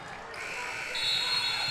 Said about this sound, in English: And the halftime buzzer.